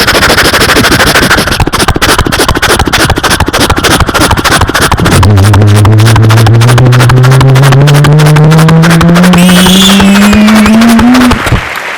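A human voice mimics a car engine with a loud, steadily rising revving drone that climbs in pitch for several seconds, then cuts off. Dense rhythmic pulsing sounds fill the first few seconds.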